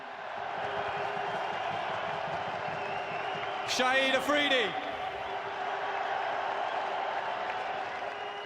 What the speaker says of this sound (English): Listen to that cheer.